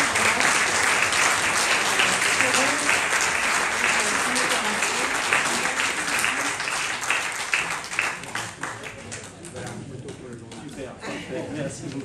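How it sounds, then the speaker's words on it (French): Sustained applause from a conference audience at a general assembly, loud and dense at first and thinning toward the end, with voices mixed in beneath the clapping. "on recommence une fois les applaudissements"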